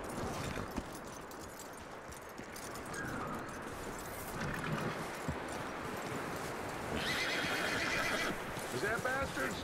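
A horse whinnies several times amid steady hoofbeats and ambient sounds in Red Dead Redemption 2, with voices talking over it.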